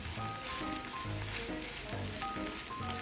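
Radish dosa sizzling on a hot pan after being flipped, a loud continuous crackling fry heard up close without any talk.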